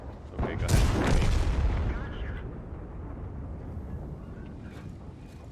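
Tank cannon firing in a World of Tanks tier 6 stronghold skirmish: one loud, close boom with a sharp crack, then a long rumbling decay under faint background noise and game sounds.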